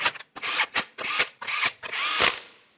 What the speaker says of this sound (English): start on all 5 of your 21mm lug nuts.